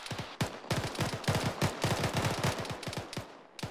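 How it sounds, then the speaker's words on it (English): Rapid bursts of gunfire in a military video game fill the stretch, dense automatic shots and single cracks following one another closely, loud and steady with no talking. "Alright, opening fire."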